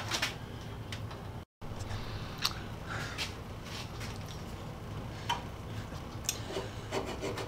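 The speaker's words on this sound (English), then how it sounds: "Going over this file with a copper tube is taking some gummy tar off of it." A copper tube rubs and scrapes steadily along a metal file to clear gummy tar from its teeth. The rasping strokes are close and continuous, with faint ticks and a brief dropout.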